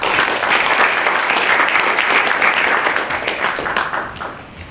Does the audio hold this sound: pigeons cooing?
no